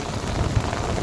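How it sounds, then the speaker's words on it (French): Heavy rain pours down steadily and densely during a thunderstorm in the south of Toulouse, a dense continuous wash of drops hitting surfaces close by. "Il pleut de plus en plus tant que c'est pas la grêle."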